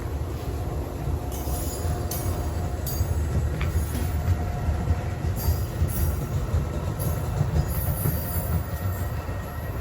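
A Union Pacific West line commuter train rolling into the Lombard station, a loud steady rumble of wheels and cars with repeated sharp squeals and clacks, close by and without talk.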